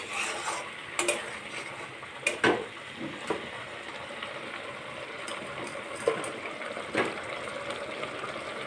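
Paneer stirred into poppy-seed paste in a pan, a soft continuous scraping and stirring with a few louder clinks and knocks of a utensil against the pan, close and alone.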